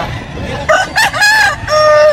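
A rooster crows loudly and close by at a gamefowl farm in Bulacan, with one full cock-a-doodle-doo call over quiet farmyard background.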